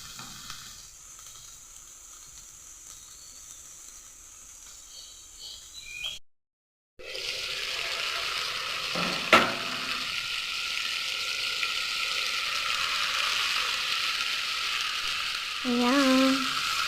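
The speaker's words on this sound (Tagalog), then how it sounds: "ginigisa ko na mga idol" Sliced fish cake sautéing in a hot pan gives a steady, fairly quiet sizzle that cuts out briefly, then returns louder with occasional clatter from stirring.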